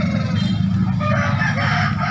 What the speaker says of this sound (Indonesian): Hari ini teman-teman lebih ramai dan beragam ayam yang ada di Pasar Daya Makassar